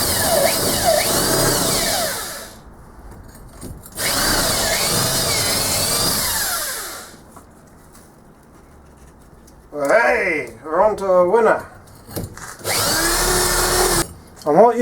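A power drill whines in loud bursts of a few seconds each, knocking sand out of a metal casting core, separated by quiet gaps, while someone speaks briefly between bursts.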